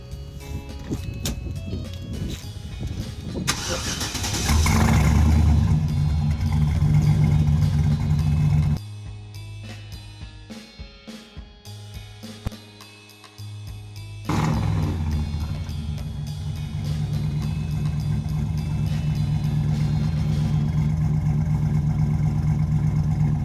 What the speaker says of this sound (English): I'm going to start it, rev it a little bit so you can hear it now